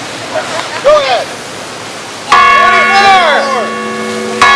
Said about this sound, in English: as the bell starts ringing, please count with it